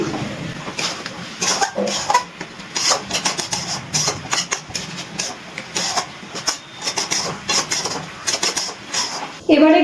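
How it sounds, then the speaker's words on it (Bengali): Chicken being stirred in a pan after salt is added for chicken do pyaza, a steady run of scraping and rubbing strokes of a utensil against the metal, close and fairly loud, with a short burst at the end. "এবার লবণটা ভালো করে মিশিয়ে নিচ্ছি"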